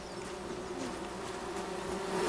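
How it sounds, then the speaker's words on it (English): A swarm of bees buzzes in the forest survival game Among Trees, a steady droning hum that swells slightly louder toward the end, with no talking. "Oh, I hear bees."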